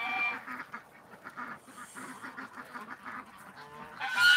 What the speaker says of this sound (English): the ducks, the geese have been going for 73 minutes